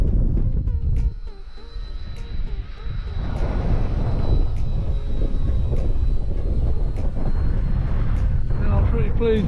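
A Bixler 2 RC model airplane drones past at full throttle, a steady motor whine over wind buffeting on the microphone, with a voice talking over it.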